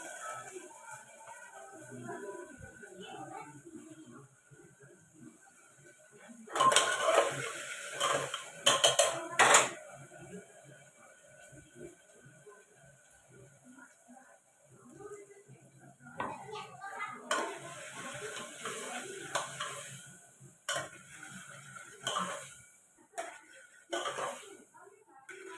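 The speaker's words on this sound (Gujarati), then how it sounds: "શાક વઘારાય છે" Vegetables being tempered in a pot at a home kitchen stove, with bursts of metal clatter and stirring from a utensil scraping the pot, set against quieter stretches and a voice.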